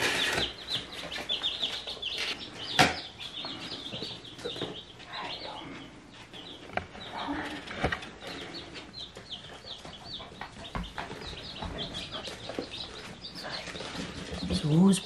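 Young chicks peep and cheep close by, including a week-old rooster chick and a day-old hen chick, with rapid overlapping chirps, occasional clucks and a person talking among them.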